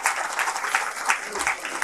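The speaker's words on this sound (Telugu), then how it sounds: "వాళ్ళకి పెద్దలు చప్పట్లు కొట్టవచ్చు ఒకసారి" Adults in the crowd at a public speech applaud the children present with continuous clapping, a close, steady wash of claps at fairly loud level with no talk over it.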